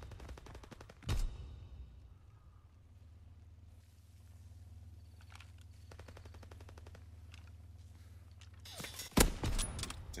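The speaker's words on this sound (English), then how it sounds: "Now we got an idiot shooting me from behind over here." Gunfire in Call of Duty WW2: a sharp burst of automatic fire, a quieter stretch with distant shots and low rumble, then another loud volley close at the end.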